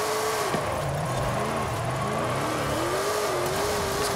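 An 1800 hp Ford F450 dually truck in Forza Horizon 5 revs steadily, its engine tone rising and falling as it accelerates through a drift, loud and continuous with no pauses.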